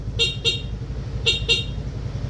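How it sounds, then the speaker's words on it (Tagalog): Two pairs of short, loud horn blasts from a PIAA dual horn on a Yamaha Fazzio scooter, each pair quick toot-toot, with a steady engine rumble underneath. "ang install natin kay sir is PIAA dual horn setup"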